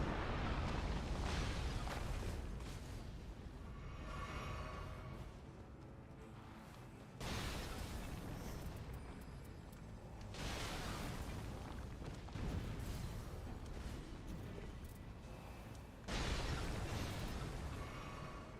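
Grenade explosions in a video game, heard as several heavy booming blasts spread out over time, each followed by a long rumbling decay.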